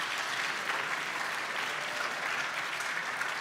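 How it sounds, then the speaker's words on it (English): An audience gives a steady round of applause at a summit event, a moderately quiet, even wash of many hands clapping with no gaps. "if you'd give them a round of applause to start off with that, I'd appreciate that"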